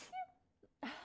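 A single close, abrupt sneeze bursts out at the end, preceded by a short breathy intake and a faint vocal sound.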